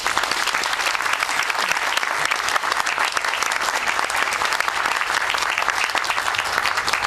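Sustained applause from an audience welcoming Chancellor Davis to the podium at a campus groundbreaking ceremony, steady and dense clapping throughout with no speech over it.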